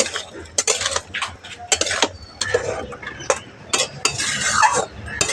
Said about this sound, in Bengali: চিনিটা দিয়ে খুব ভালো করে মিশিয়ে নিচ্ছি